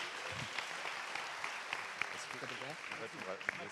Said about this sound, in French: on applaudit Dorian quand même